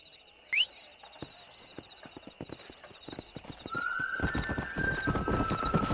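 Horses in Red Dead Redemption set off with a short whinny, then hoofbeats clop at a walking pace before quickening into a dense, louder gallop rhythm as riding speeds up.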